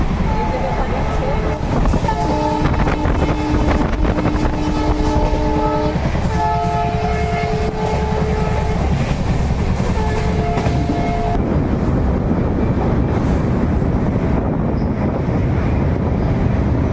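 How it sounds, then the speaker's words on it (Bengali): Onboard the Brahmaputra Mail passenger train running at high speed: a loud, continuous rumble and clatter of wheels with wind rush, while sustained horn tones sound repeatedly before the roar carries on alone. "আর ট্রেন তো অনেক স্পিডে চলছে"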